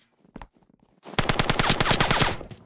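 Video game gunfire in a Search and Destroy match: one short early shot, then a loud rapid automatic burst of evenly spaced rounds lasting over a second, with no talking.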